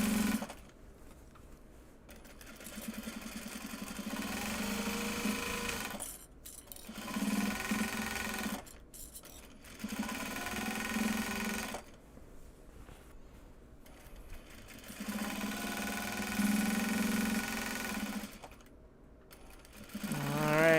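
A sewing machine stitches bags from Japanese fabrics in several bursts of steady whirring, separated by short pauses, while the bobbin is running low.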